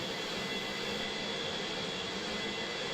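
Large passenger or cargo airliner flying in a flight simulator game, a steady broadband engine roar with a faint whine, continuous and even throughout, no voices.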